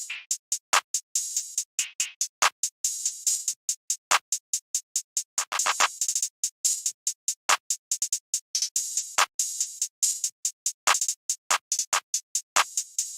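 Crisp 808 open hi-hat hits in a programmed trap beat, landing in steady rapid bursts with occasional deeper thumps of the 808 underneath, loud and dry with no talking.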